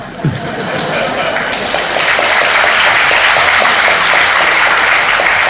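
Staff audience at a district office talk with the city mayor breaks into applause that builds after a brief pause into a loud, dense, sustained clatter of many hands.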